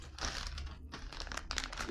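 Sealed plastic packet holding chainsaw accessories (file, handles, file guide frame) for a Motor Sich petrol chainsaw, crinkled and handled up close in a steady two-second burst of rustling and crackling with no talk.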